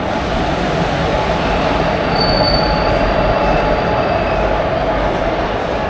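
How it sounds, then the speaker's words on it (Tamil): The Sengottai Express passenger train arrives on the opposite track at a station on the Tirunelveli–Kanyakumari line, with a loud continuous rumble and high drawn-out wheel squeals close by. "இங்கே ஆப்போசிட்டில் ஒரு ட்ரெயின் வந்திருக்குங்க."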